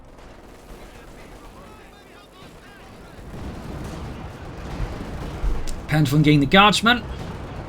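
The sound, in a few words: mortar firing in the video game Company of Heroes 2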